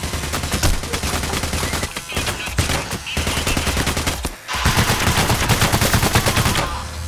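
Sustained gunfire in the co-op heist shooter Payday: The Heist, with rapid bursts of automatic shots sounding loud and dense through most of the stretch and one brief lull near the middle.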